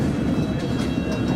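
London Underground District Line train, a loud continuous low rumble and roar of the carriage in motion, heard from inside.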